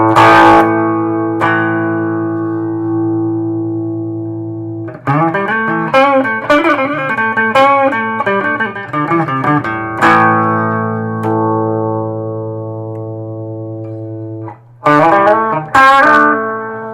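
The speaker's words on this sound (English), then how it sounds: "putting on the distortion with this, go ahead and give it a shot. It bleeds out, it clips on the mic." An electric guitar plays through a distortion effect with the signal clipping the microphone. Sustained heavy chords ring out, then a burst of riffing in the middle, and loud struck chords follow near the end, all close with no voice.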